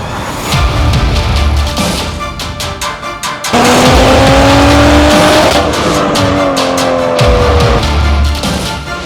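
Tuned Stage 2 BMW M340i heard from close by, its engine note droning and rising steadily as the car accelerates, with tonal whine sweeping upward and settling through gear changes and continuous road roar.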